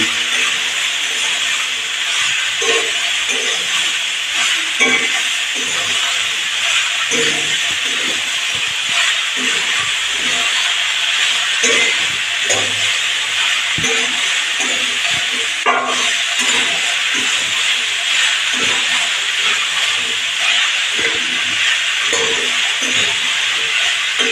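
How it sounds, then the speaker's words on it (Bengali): Ash gourd stirred and fried in a pan gives a steady bright hiss throughout, with soft irregular scraping and knocking of the spatula against the pan. "ভালো করে চাল কুমড়োটা নাড়া দিয়ে নেব"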